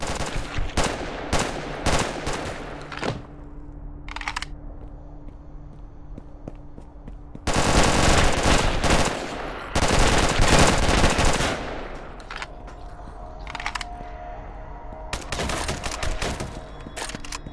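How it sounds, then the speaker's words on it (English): Gunfire in the video game Red Alliance: rapid automatic bursts and single shots crack repeatedly over footsteps, with dense loud volleys in the middle and further bursts toward the end, all close and without talk. "So there's a lot of shooting going on"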